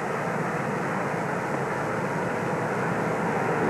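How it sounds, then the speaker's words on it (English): An Air Force jet, Air Force One, arriving at Andrews Air Force Base, Maryland, in November 1963: a steady, loud, broadband engine roar holds evenly throughout with no break. "He arrived at 5:58 Eastern Standard Time aboard the Air Force jet which also"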